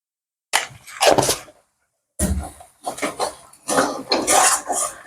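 Metal utensil scraping and clinking against a cooking pot while turmeric is stirred into chicken curry, coming in two separate bursts, close and fairly loud, with no talking.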